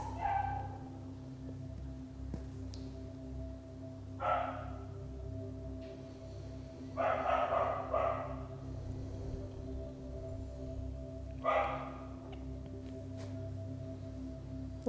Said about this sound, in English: if my mic is picking up the dogs barking outside, just notice the sound